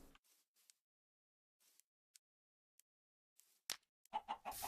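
Chicken clucking in the video game Minecraft: short, scattered clucks come in sparse bursts separated by silence, ending in a louder cluster of clucking sounds.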